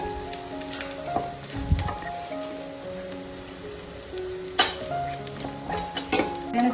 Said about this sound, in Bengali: পেঁয়াজিটা হতে থাক